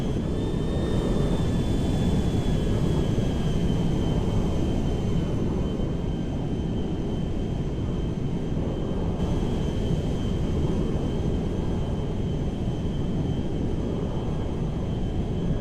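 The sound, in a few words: IL-76M cargo airplane climbing in GTA 5 video game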